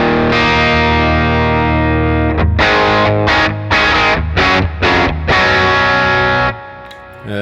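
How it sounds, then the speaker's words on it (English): An electric guitar on the bridge pickup plays through a Walrus Audio Lillian phaser set to 4-stage at its slowest rate: a sustained, loud distorted chord followed by a series of short choppy strummed stabs, then a ringing fade. "This is the sound of the guitar on bridge pickup."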